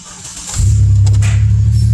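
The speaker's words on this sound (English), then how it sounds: "this chirping noise that y'all hearing, that's the motor. One of the rods is going bad." Chevrolet Impala motor with a failing connecting rod, idling in a steady low rumble that rises partway through, with faint intermittent chirping ticks over the engine drone.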